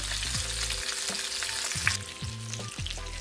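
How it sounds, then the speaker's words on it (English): Spareribs searing in a hot pan make a strong, continuous sizzle, close up, while a low mechanical hum rises and falls underneath and one brief clink sounds midway, with no talk. "But I just like to get a nice sear on my meat first."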